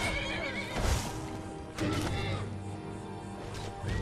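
A horse under attack in the video game Skyrim whinnies sharply in several loud, strained bursts, mixed with hoof clatter and crashing combat impacts.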